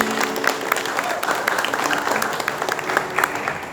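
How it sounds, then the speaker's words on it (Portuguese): A church congregation breaks into applause, a dense wash of many hands clapping steadily for a few seconds in a reverberant hall. "vamos aplaudir a palavra de Deus."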